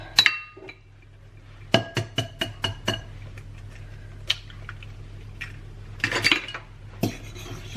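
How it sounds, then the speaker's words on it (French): Sugar and two eggs mixed in a salad bowl with a utensil, giving a burst of close, sharp clinks and taps against the bowl in a quick irregular rhythm, then scattered knocks and scraping with no talk. "dans un saladier, je vais mélanger mon sucre avec mes 2 œufs"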